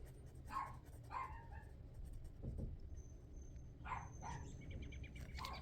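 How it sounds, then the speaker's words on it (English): A puppy barking indoors, several quick sharp yaps in two short bursts with a lower thump between them, moderately faint over a background hum. "Sorry for the barking puppy."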